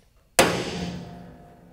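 A single sharp hammer strike on a transfer punch, used to mark holes for custom firewall roll bar brackets on a 1960-66 GMC/C10 truck, lands loud and close with a metallic ring that decays slowly.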